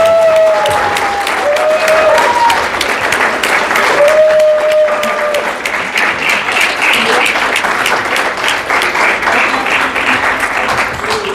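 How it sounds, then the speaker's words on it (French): Applause from a conference audience rises and holds as sustained, dense clapping for several seconds, with scattered voices and a few brief cheers mixed in. "je pense qu'on peut l'applaudir"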